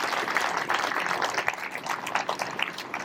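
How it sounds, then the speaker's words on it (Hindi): Sustained applause from a crowd welcoming a minister at a Brahma Kumaris annual celebration and inauguration in Ballabgarh, a continuous, even patter of many hands clapping with no talking over it. "सभी तालियां बजाकर स्वागत करेंगे।"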